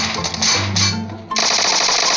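Rapid automatic gunfire in the mobile battle royale game PUBG Mobile rattles in a burst aimed at a vehicle, with a loud low mechanical drone that then cuts to a harsh bright crackle.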